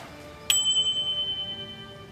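A doorbell strikes once with a sharp bright ding that rings on, its tone slowly fading, alone in a quiet room.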